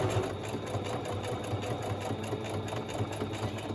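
A sewing machine runs fast and steadily, stitching a tight zigzag onto a tag, its rapid mechanical whir continuous and close throughout with no talking.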